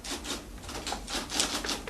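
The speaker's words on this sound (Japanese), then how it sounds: "今タイプを打っています。" Soft, rapid, even clatter of keys being struck on a typewriter, steady and fairly faint, in an office setting from a Japanese language lesson, with no voices.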